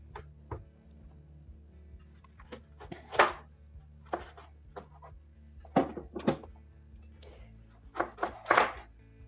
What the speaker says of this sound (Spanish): mientras picamos nuestros chilitos